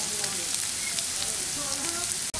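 Urad dal frying in a pan, giving a continuous close sizzle with light crackling pops that runs steadily before a brief drop near the end.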